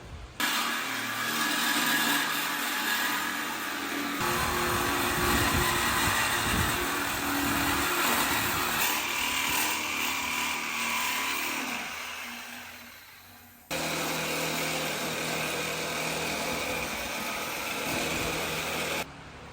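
Power tool cutting apart an old rusty go-kart frame, a loud sustained grinding whine that varies in pitch, cuts off briefly and starts again.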